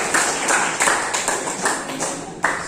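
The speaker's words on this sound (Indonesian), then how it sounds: "tepuk tangan dulu untuk kelompok 1" Students in an Indonesian classroom clap together for a group that has just finished presenting, the claps coming in a steady, fairly even rhythm of repeated bright slaps throughout.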